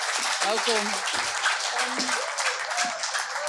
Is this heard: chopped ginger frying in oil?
no